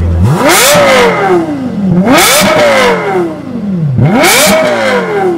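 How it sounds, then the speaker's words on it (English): A Lexus LFA carbon-fiber supercar's engine revving hard three times, each blip rising sharply then falling back, loud and close with no talk. "If you want to give me a little rev"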